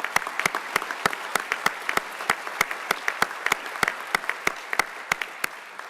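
Applause at an awards ceremony honouring Best Ranger competitors, heard as a sparse run of distinct, sharp individual hand claps at uneven intervals, not a dense ovation.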